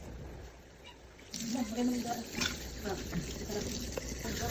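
Tap water runs steadily into a sink while rice is washed in a humble home kitchen, a broadband rush with small splashes, heard close under people talking.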